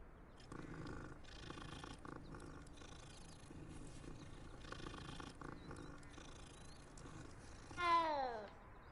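A cat in Hogwarts Legacy purrs while being petted, a soft rhythmic rumble pulsing in steady waves. Near the end comes one brief, louder rising-and-falling call.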